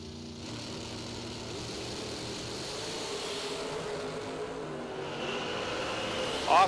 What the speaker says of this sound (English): the 6-shooter does a nice wheelie in his dragster every time he leaves the starting line